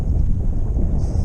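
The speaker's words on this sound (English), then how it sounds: "It's a windy day." Steady wind buffeting a microphone on a lake during kayak crappie fishing, a continuous low rumble that stays loud and unbroken throughout with no talk.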